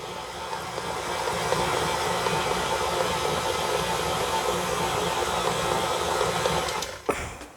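An electric mixer runs at a steady, loud whir for about seven seconds, beating loose, liquidy black and white cookie dough, then cuts off with a brief clunk.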